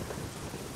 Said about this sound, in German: No, der Donner ist jetzt nicht so heftig.